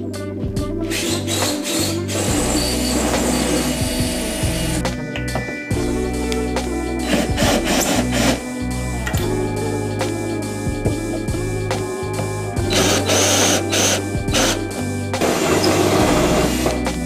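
Rivets are drilled out of a car hood to free the foam sound and heat insulation, with a dense run of loud, close buzzing and grinding tool noise interrupted by brief gaps and clicks.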